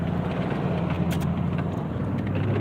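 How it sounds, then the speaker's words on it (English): A truck drives past on a road, a steady loud rumble of engine and tire noise that holds throughout without voices. "There's another truck coming here."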